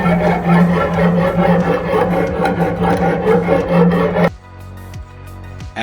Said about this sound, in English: Once it's wet enough, we can start sharpening the blade.